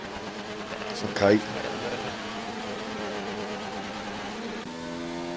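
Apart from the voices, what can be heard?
glitching race car engine in racing video game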